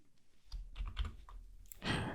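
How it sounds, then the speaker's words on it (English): A few quick keystrokes on a computer keyboard sound close and crisp as Shift and Z are tapped, ending on a slightly louder final press. "So I'm just going to press escape on my keyboard. And then I will do Shift Z"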